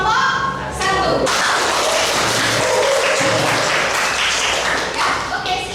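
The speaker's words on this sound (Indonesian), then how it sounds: "Silakan aplaus untuk kelompok 1." A class claps for group 1 after their presentation: steady, dense applause from a room of students carrying through the moment, with talk at the start.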